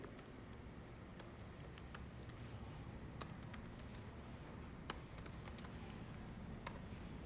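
Keys clatter in quick irregular bursts on a computer keyboard as code is typed, a soft close patter with occasional sharper taps and no talking.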